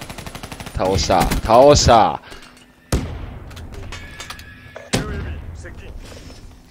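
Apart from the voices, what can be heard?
gunfire in video game Call of Duty: Black Ops 3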